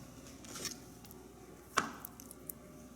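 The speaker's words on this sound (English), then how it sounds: "But for now, we're just gonna slice it." A knife slicing through food on a cutting board during weekly meal prep, a few quiet separate cuts with one sharper chop in the middle, heard close and alone.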